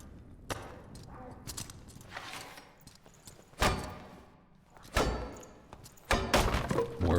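Footsteps of another player close by in a fantasy dungeon game: a series of irregular, heavy thuds and thumps, several loud and near, with quieter shuffling between them.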